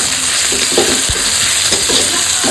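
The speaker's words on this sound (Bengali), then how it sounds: "এবার সমস্ত কিছু একটু ভালো মতো রসুনের সঙ্গে একটু ভেজে নেবো পেঁয়াজটা" Onion frying with crushed garlic in oil for a tilapia curry, a steady broadband sizzle with scraping stir strokes against the pan, close and fairly loud, no voices.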